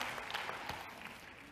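A seminar audience applauds: a faint, distant patter of many hands clapping, steady and brief, with no talk over it.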